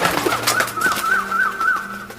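A bird-call sound effect stands in for the bird Jatayu in a Ramayana retelling: about six soft, repeated pigeon-like coos over a faint low background hum.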